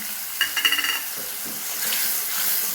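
A mixed spice paste being fried in a pan for potol paneer dolma, with a spoon clattering and stirring near the start, then a steady close sizzle and hiss that carries on alone.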